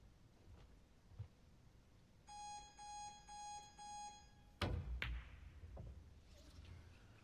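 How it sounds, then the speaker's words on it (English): A sequence of four evenly spaced electronic shot clock beeps, clear but not loud, followed by sharp clacks of billiard balls in a quiet room at a professional pool match. "had to play the shot when the beeps signalled"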